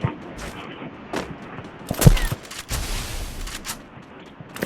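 Gunfire from the video game Free Fire crackles in scattered bursts, with a louder cluster of shots near the middle over a quiet background.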